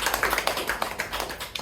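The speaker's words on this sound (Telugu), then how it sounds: "చప్పట్లు కొట్టండి." An audience at a Telugu meditation training session claps, a quick irregular patter of many hands that stays fairly soft and close for under two seconds.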